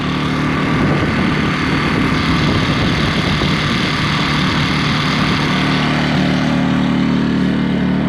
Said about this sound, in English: the generator is easily handling 105 watts at this time